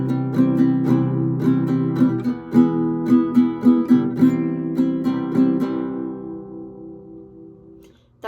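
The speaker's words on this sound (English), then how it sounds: "when the guitar first comes in, we start with C twice, E once, and C once" Acoustic guitar strummed in a chord pattern of C twice, E once and C once, from the intro of a song: steady rhythmic strums, close and clear, ringing out and fading at the end, with no talking.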